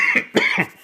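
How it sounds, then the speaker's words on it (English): Three quick, close coughs in a short burst, each a sharp rasping hack, from someone with a lingering residual cough. "kind of residual coughing"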